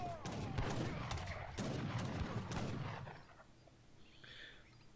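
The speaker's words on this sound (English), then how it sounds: "Also villagers are shooting." Gunfire in Age of Empires III as villagers and musket units shoot during a battle, a dense rattle of cracking shots and volleys for about three seconds, fading to quieter scattered sounds.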